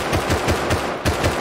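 Rapid automatic gunfire from a video game raid with roof camping, loud bursts of regularly spaced shots at about five per second, briefly pausing near the one-second mark before firing again.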